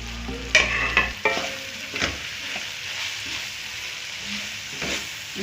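Shredded cabbage tossed in a hot wok for restaurant-style chicken fried rice, with a few loud metal scrapes and clunks up front, then a softer steady sizzle with occasional stirring knocks.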